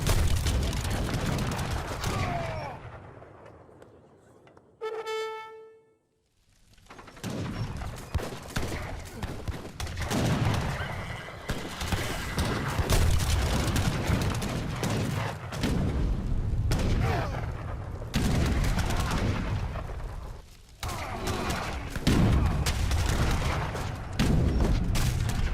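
Cannon fire from an Age of Empires 3 battle, with India, Portugal and Dutch armies: repeated heavy booms and volleys in a dense din of combat, broken by a brief near-silent gap with a ringing tone, with talk over it.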